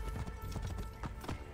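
Horse hooves clip-clop in a steady rhythm while riding in the video game Assassin's Creed Origins, close and fairly loud over a dense layer of game ambience.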